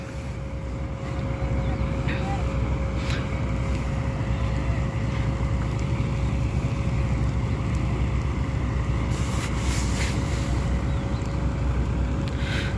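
A tandem road roller of 8 to 10 tonnes runs at an asphalt-laying site at the old airport in Hisar, its engine a steady, unbroken low drone with a faint tonal whine and some wind noise.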